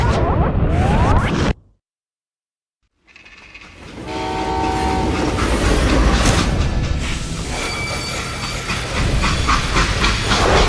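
A freight train from the Western shooter Call of Juarez Gunslinger rumbles loudly with steady hiss and clatter after a brief drop to silence, building into a continuous close roar.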